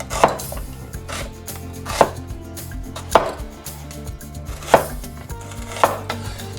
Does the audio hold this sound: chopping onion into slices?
yes